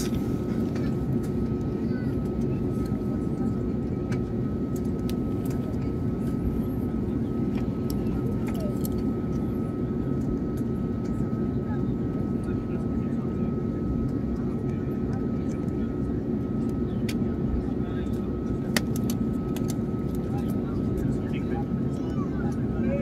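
Jet airliner engines at Istanbul airport before takeoff, a steady low rumbling roar that holds at constant level throughout, with faint cabin noise on top.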